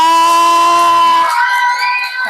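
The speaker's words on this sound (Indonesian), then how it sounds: "Yuk kita berikan aplaus yang meriah untuk kalian semua" A classroom of students bursts into loud, continuous cheering and shouting for their student groups, a brief bright tone at the start fading into the lively crowd noise.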